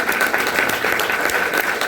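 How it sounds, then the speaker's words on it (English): Steady applause from an audience at the Merrill Osmond Serenity event, a thick wash of many hands clapping evenly and fairly close throughout. "But let's give her a round of applause."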